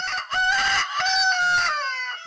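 A single loud rooster crow nearby, a long drawn-out call with a rising and falling tone, heard on its own.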